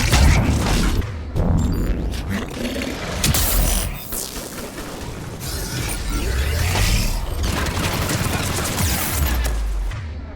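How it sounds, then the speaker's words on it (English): Gunfire aimed at the player in the video game Mass Effect 3, dense overlapping shots and impacts mixed with crashes, explosions and mechanical noise throughout, loud and busy with a brief dip near the middle. "Why are these guys shooting me"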